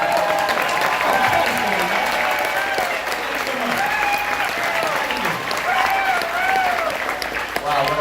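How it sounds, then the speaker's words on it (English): Audience applause fills a convention panel hall, steady and dense for the whole stretch, with scattered whoops and cheers rising over the clapping. "get a round of applause from the audience"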